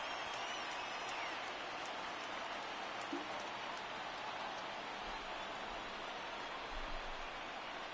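Baseball stadium crowd in MLB The Show rising to its feet, a broad steady roar of cheering and murmur holding evenly throughout with no individual voices standing out.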